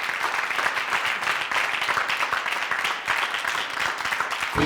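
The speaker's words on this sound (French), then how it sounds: "Est-ce qu'on peut les applaudir pendant qu'ils arrivent?" A studio audience claps for announcers arriving on a television variety show set, a moderately loud, crackling spread of many hands that holds steady throughout.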